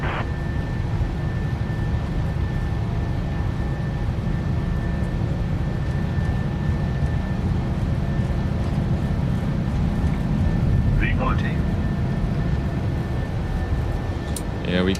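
A PMDG 737-800 airliner in Microsoft Flight Simulator 2024 rolls for takeoff with a steady, loud jet roar and low rumble holding throughout, a faint higher tone running above it and brief radio-like chatter near the end.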